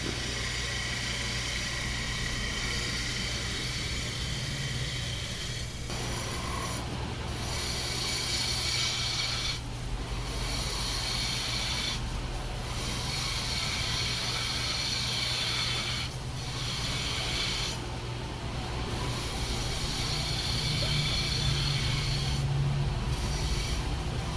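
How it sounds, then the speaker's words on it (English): Wood lathe spinning at about 1500 RPM while a parting tool cuts a recess into the bottom of a turned piece, a steady broadband whir with intermittent scraping cuts and brief pauses throughout. "I'm using a parting tool to make the corner of the recess there, and lathe speed's about 1500 RPM."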